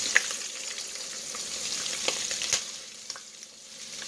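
Food frying in a hot pan on medium-high heat, a close continuous sizzle scattered with sharp pops and crackles, fading slightly toward the end.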